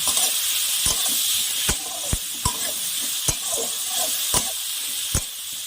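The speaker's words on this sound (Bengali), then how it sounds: "এবার আমি অল্প এটাকে লাল করে ভেজে নেব" Onion and slit green chili sizzle in a pan in a steady hiss, with sharp stirring clicks of a utensil against the pan roughly every half second, close and clear without talk.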